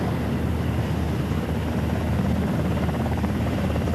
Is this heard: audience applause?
no